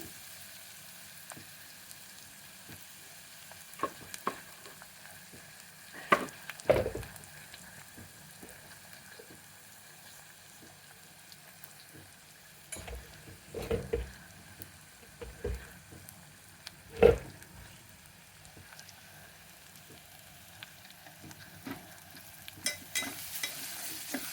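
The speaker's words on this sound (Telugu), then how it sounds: "కొద్దిసేపు వేగనివ్వాలండి" Ginger garlic paste with turmeric, salt and tomatoes frying in a pan, heard as a soft steady sizzle broken by occasional louder scrapes and knocks of stirring, close and without speech.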